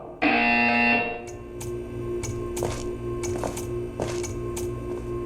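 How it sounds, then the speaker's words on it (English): A harsh, loud electronic buzzer in the video game Portal 2 sounds for about a second, then gives way to scattered light clicks over a low steady hum. "You will hear a buzzer. When you hear the buzzer, stare at the art."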